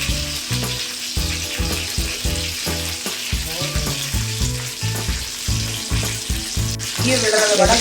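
Eggplant sautés in oil for kuzhambu with a continuous loud, close sizzle and crackle, while a rhythmic tonal background runs underneath.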